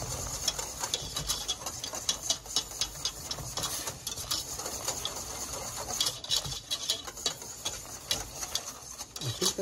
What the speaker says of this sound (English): now we'll whisk it up again